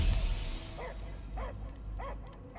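A dog barks three times at a steady pace in the Guardians of the Galaxy video game, moderately near, over a low rumbling background.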